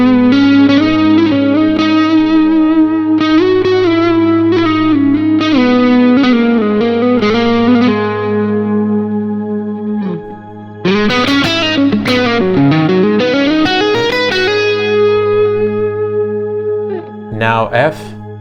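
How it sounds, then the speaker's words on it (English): Electric guitar run through an effects unit with a gain block, a held frozen note droning underneath while melodic lines noodle over it, distorted and chorused with bends and slides, loud and steady throughout. "As you can hear, the gain block releases the main guitar sound and letting me noodle over it."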